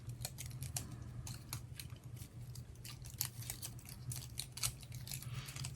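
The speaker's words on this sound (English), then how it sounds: "you're going to have to cut the ends because it stays attached to the paper" Scissors snipping the ends of stamped paper at a card-stamping craft table, a run of quick, close crisp cuts with short pauses between, heard alone.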